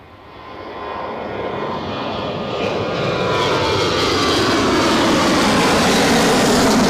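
A Corendon Airlines airliner departs Newcastle Airport bound for Dalaman, its jet engines swelling from a distant rush into a loud, sustained roar that keeps building as the plane passes.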